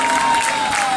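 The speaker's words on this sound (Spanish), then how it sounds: "Muy bien, fuerte aplauso." Crowd applause at the finish line of a cadet-category popular foot race in La Herradura, a steady clapping wash for about a second with a thin whistle-like tone running underneath.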